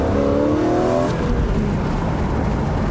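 A cheap flood-salvage BMW M3 engine pulls hard while driving, a loud steady roar with rising harmonic tones in the first second that then settles into a broad, continuous drone.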